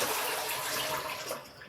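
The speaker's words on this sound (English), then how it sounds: "Oh, don't forget the flush." A bidet toilet flushing in a bathroom, a steady close rush of running water that stays loud for nearly two seconds and then thins out toward the end.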